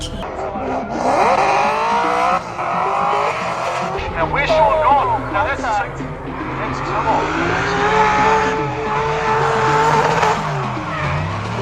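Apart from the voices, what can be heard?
2,300 horsepower drift car at drift competition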